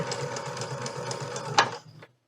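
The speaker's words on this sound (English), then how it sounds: "I'm just going to sew right over top of my original line." A domestic sewing machine stitches steadily back over an existing seam line on cotton quilting fabric, a close, even mechanical whir with a regular pulse that stops abruptly near the end, with no voice.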